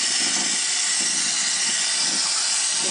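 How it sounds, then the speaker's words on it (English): Running water pours steadily from a turned-on tap, a close, loud, even hiss without a break while mason bee cocoons wait to be rinsed, with no talking. "turn on the water here"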